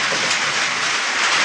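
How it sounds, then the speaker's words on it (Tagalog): Heavy rain pours steadily during a stormy night, a dense, constant wash of drops that stays loud and unbroken throughout with no voices. "medyo malakas po ang ulan."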